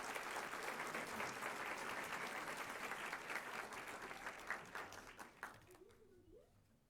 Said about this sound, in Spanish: Un aplauso para Harry Belevan.